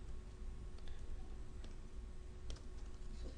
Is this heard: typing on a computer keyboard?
yes